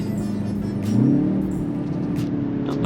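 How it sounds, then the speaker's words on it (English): A 2024 BMW X1 M35i with a dual-clutch transmission accelerates in second gear on a rainy day, its engine note heard from inside the cabin rising briefly in pitch and loudness before settling back to a steady hum. "I think that was just a little second gear pull."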